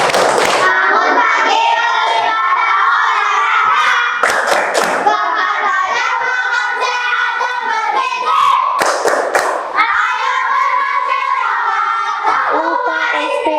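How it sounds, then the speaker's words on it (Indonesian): A class of Indonesian schoolchildren claps and chants a rhythmic cheer, with sharp bursts of clapping recurring several times between stretches of loud, close group chanting and an adult voice. "Boleh tepuk anak hebat sekali lagi."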